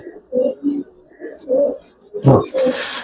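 Giribaz pigeons cooing in soft repeated low calls close by, with a person talking over them toward the end.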